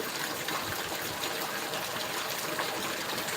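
Rainwater gushes at full force from a village roof drainspout during a heavy downpour, a steady loud rushing splash that holds without pause, close by and with no talk over it.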